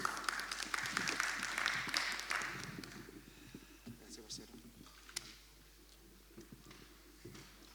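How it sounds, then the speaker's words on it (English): Brief applause at a cycling press conference for the winner of stage 4 of the Tour of the Alps, Miguel Ángel López, fading into murmured talk and room noise. "Please give him a round of applause."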